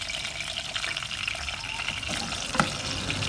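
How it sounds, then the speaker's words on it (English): Salted fish frying in palm oil, a steady bright sizzle and crackle throughout, with one sharper pop near the end and no voices. "So put the salted fish first into the palm oil"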